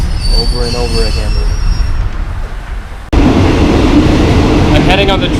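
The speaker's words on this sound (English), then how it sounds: "I'm heading on the train from Phatthalung to Nakhon Si Thammarat province" A local train in southern Thailand, running between Phatthalung and Nakhon Si Thammarat, rumbles loudly with squealing wheels and rattling cars, the noise jumping louder halfway through; a voice can be heard under it.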